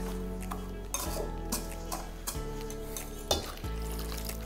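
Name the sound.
mixing batter with vanilla and milk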